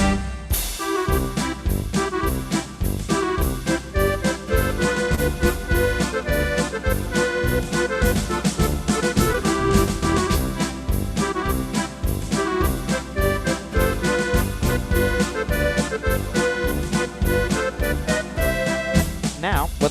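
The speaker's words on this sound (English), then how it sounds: "so if I keep the full band sound, and we hear a lot of instruments in that, you're going to get a march/polka" An electronic keyboard plays a traditional march or polka with a full band arrangement. It sounds like a dense ensemble with a steady oom-pah rhythm that keeps going for the whole stretch, with no voices over it.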